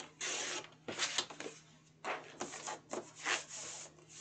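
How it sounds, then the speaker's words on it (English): Cardboard from a recycled box being cut into strips, a series of close, soft scraping and rasping strokes in bursts separated by short pauses. "So I am going to cut two strips"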